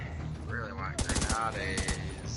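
Rapid bursts of automatic gunfire from The Division 2 crackle in a quick cluster, then a shorter volley follows, mixed with game sounds and a player's voice.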